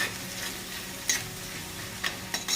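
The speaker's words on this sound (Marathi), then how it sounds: "कांद्याला आपल्याला थोडंसं मस्त असं हलवून घ्यायचं आहे थोडंसं आपण लाल करून घेऊया कांद्याला" Onions fried in a pan hiss with a steady sizzle while a spoon stirs them, giving a few sharp scraping clicks against the pan, close and even in level.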